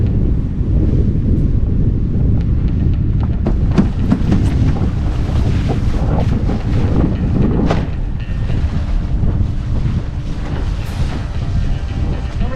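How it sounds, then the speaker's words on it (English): Strong, steady wind roars across open lagoon water during windfoiling, buffeting the microphone continuously, with low rumbling gusts and faint splashing of water throughout. "It's super windy now in this lagoon, right?"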